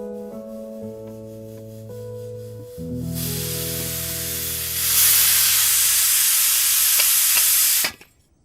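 Steam hisses out in a loud, broad rush that swells partway through and cuts off abruptly, following a few seconds of sustained musical tones.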